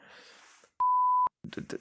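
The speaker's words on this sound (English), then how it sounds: "Can you bleep that, Matt?" A single steady censor bleep, one sustained tone of about half a second, cuts in over a spoken name, with talking just before it and right after.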